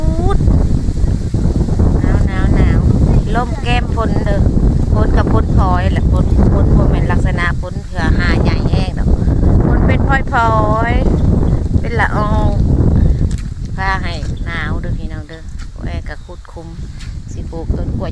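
Strong wind blows hard and steadily across the microphone outdoors on farmland, a loud continuous rush with a person talking over it throughout.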